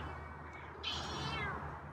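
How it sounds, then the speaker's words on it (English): A feral cat meows once, close by, a clear rising-then-falling cry lasting about a second over a low steady background hum. "That's a meow."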